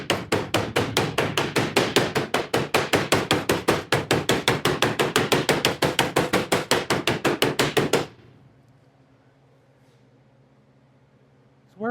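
A sheet-metal panel for a chopped roof on a VW Bug is slapped over and over in a fast, even rhythm of about forty loud, close smacks, then stops abruptly into quiet room hum.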